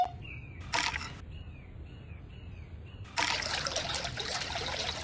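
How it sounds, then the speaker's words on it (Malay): Water trickling from a fountain, a steady liquid splash heard in two bursts separated by a quieter gap with faint tonal chirps, moderately close and without talk. "Ada air pancut lah kat sini."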